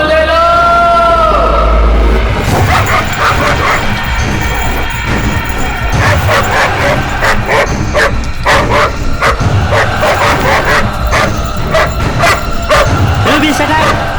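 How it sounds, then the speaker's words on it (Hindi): Pet dog Ruby barks repeatedly in a loud, rapid series of sharp yips and woofs, close by, mixed with music and people talking over it. "ये आखिर इतना क्यों भौंक रहा है?"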